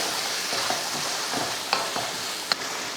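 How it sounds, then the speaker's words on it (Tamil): Tomato paste and green peas sautéing in a pan with salt give a steady close sizzle, broken by a few sharp scrapes and clicks of a spoon against the pan. "தேவையான உப்பு உப்பு சேர்த்து கலந்து விட்டுருவோம் நல்லா வதங்கட்டும்"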